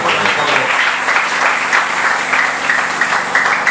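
A church congregation applauding and cheering during a French-language worship service, a dense, steady wash of clapping and raised voices that stays loud and unbroken throughout.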